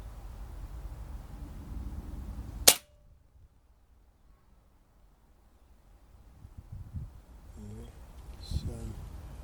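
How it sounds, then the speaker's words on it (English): One sharp, loud crack as a Beeman 1357 air gun fires a pellet at a card target. The report cuts off abruptly into near silence, and faint rustling and movement follow. "And I'm going to take the first shot."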